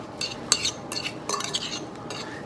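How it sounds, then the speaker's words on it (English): A spoon stirs chopped fruit salsa with squeezed lemon juice in a bowl, giving close, irregular scraping and clinking bursts with soft wet churning between them, and no talk. "And then stir that all up"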